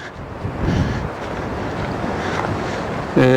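Strong wind blowing on the Spanish coast in winter, roaring and buffeting the microphone in a continuous rush, with a sharper gust near the end.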